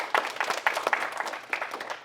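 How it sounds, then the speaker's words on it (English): A seminar audience applauds the guest speaker, a modest patch of distinct claps with some separate sharp hits, moderately close and fairly light. "Big round of applause for Kylie Wilhelmi."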